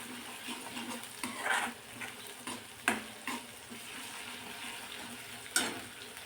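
Masala cooks in hot oil in a pan, a faint steady sizzle broken by a few soft scrapes and stirring clatters at irregular intervals.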